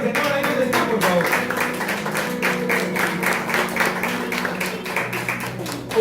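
Congregation at a church service clapping steadily in praise, a dense rhythmic patter of many hands mixed with music or voices, sustained and fairly loud throughout.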